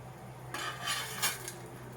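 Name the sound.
onions frying in a pan, stirred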